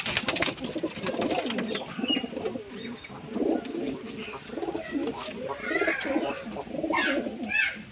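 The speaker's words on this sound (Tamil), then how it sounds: "இந்த ரோமர் புறா வந்து விற்பனைக்கு தான் இருக்குது ஐநூறுரூபா யாராவது வேணா வாங்கிக்கிடலாம் ஆண் புறா தான்" Several Roller and crested pigeons, male birds offered for sale, coo softly and steadily from inside a backyard coop while someone talks continuously over them.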